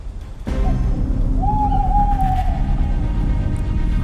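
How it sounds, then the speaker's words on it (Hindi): An owl hoots once in a long, steady, eerie tone over a low constant drone, used as a horror story sound effect, with no talk. "तभी गाड़ी की छत पर आकर वो उल्लू बैठ गया।"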